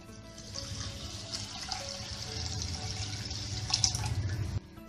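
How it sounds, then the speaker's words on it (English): Water pours from a vessel onto soaked rice in a cooking pot, a continuous trickling splash that swells slightly toward the end before stopping abruptly, close and moderately quiet. "Now to the soaked rice, we are going to add about 3 cups of water."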